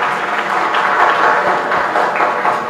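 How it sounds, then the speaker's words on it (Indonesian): A seminar audience in Jombang, East Java gives the three speakers a steady round of loud, dense applause that holds throughout. "Tepuk tangan untuk ketiga narasumber kita hari ini."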